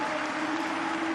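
A dense, steady roar of a crowd cheering and clapping at a Super League Arena Games triathlon in Munich, loud and continuous throughout the short stretch.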